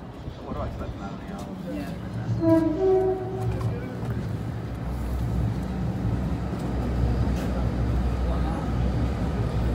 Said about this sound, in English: service from London King's Cross to Edinburgh Waverley